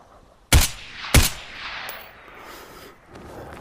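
Two sharp, loud gunshots about half a second apart in a Geronimo VR shooter on Meta Quest 3, set on an Iraq manor map, each followed by a lingering echoing tail and quiet room noise.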